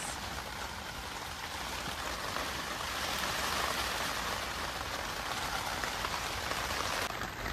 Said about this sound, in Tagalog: kasi umuulan sa labas